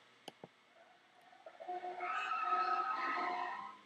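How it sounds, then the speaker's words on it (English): Tires skid and squeal on a car braking hard, a sustained screech building up after a couple of short knocks, moderately loud and with no talk over it. "It's the accompanying sound of my safety skid brakes with pending safety squeal technology."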